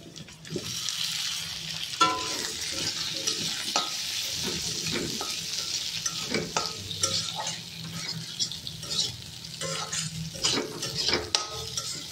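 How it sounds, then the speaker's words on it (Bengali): Potatoes fry with onion, ginger and garlic in a wok, making a continuous moderate sizzle broken by frequent scraping stirs and metallic spatula clatter, with no voices. "আলুটার সাথে পেঁয়াজ আদা রসুনটা একটু ভাজা ভাজা করে নেব"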